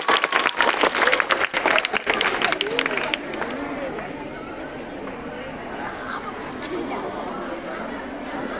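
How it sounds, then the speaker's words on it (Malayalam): Students clapping for a classmate named Vishal in a Kerala classroom, a loud burst of dense applause with chatter for about three seconds, then dropping to a softer crowd murmur. "വിശാലിന്റെ കയ്യടി കേട്ടോ"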